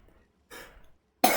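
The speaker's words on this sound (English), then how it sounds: "Pardon me, clearing my throat." A person clears their throat twice: a short, muffled rasp, then after a pause a loud, harsh, cough-like burst, close to the mic with no talk around it.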